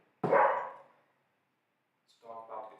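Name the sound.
dog barking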